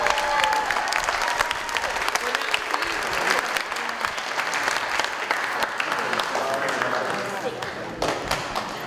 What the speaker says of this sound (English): I'm still going to clap for you.